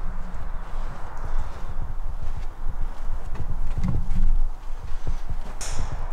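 A horse ridden by a man outdoors near an abandoned luxury hotel, its hooves clip-clopping in a steady walking rhythm, close and loud under constant outdoor noise and rustling.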